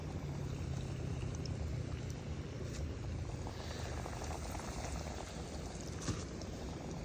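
Battered fish frying in a pot of hot oil, giving a steady, dense sizzle and bubbling that runs unbroken and fairly close at moderate volume.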